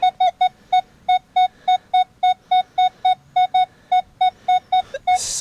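A metal detector sits over a coin buried at the surface of a flooded beach, sounding a loud, steady run of about twenty identical short high beeps in quick rhythm, with a brief rustle at the end.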